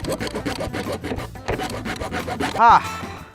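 Garden edging for a circular gravel border is cut by hand, giving a run of close, rhythmic rasping saw strokes that end in a single sharper scrape, with a voice speaking briefly.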